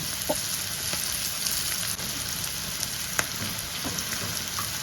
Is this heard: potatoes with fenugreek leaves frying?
yes